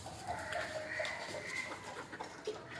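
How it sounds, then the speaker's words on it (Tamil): A pair of black native country chickens cluck softly nearby, short pitched calls and murmurs scattered over a low background hiss, fairly faint and with no talking. "இதான் ப்ரோ கருங்கோழி ஜோடி"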